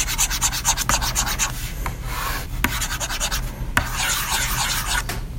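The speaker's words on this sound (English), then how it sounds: "I hope that you guys can hear this pen on the tablet." A stylus pen scratching and rubbing across a tablet screen while music is being marked up, a steady close rasping texture with short strokes and taps running throughout, no voices.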